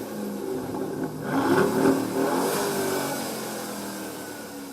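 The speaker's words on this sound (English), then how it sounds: "once you've fired that glorious engine and heard the inimitable Aston growl" A 2019 Aston Martin DB11 Volante engine growls in a steady, moderately loud rev that swells briefly and then settles into a sustained drone, with no voices.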